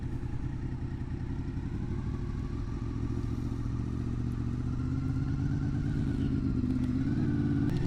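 A motorcycle pulls away slowly after the clutch is let out during a low-speed cornering practice: a continuous close engine drone with rumbling low tones and slight clatter, the pitch rising gently toward the end.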